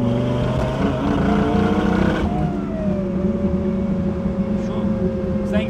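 A Viper V10-powered 1967 Chevrolet Chevelle SS restomod accelerates on the road, its deep engine note rising loudly and steadily, then easing off into a sustained lower drone after a gear change.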